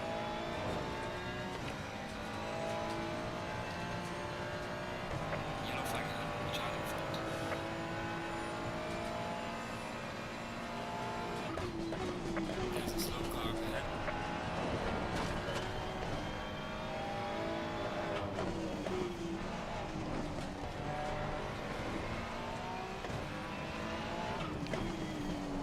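Race car engine lapping the Nordschleife in a sim racing game, revving up and down through gear changes with occasional tire squeal, loud and continuous throughout, no voices.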